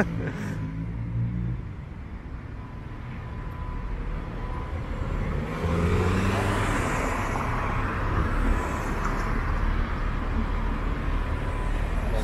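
City street traffic in Toronto heard from the sidewalk, a continuous low rumble of cars passing with a swelling vehicle pass-by midway, moderately loud and with no talk over it.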